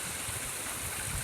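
Pure water in a natural stream flows over large stones and rocks on land in Sri Lanka, a faint, steady rushing wash for about a second with no voices.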